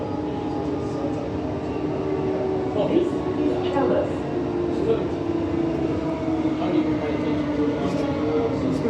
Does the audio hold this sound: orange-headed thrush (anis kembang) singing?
no